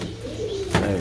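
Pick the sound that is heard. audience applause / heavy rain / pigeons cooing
pigeons cooing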